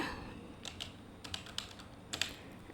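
A computer keyboard typed on while entering an Excel formula, giving a few quick clusters of light key clicks over a steady low room hiss, close by.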